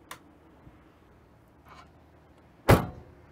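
The gas filler door on a 1956 Chevrolet Bel Air snaps shut with one sharp metallic click, preceded by a couple of faint small taps, close and quiet otherwise.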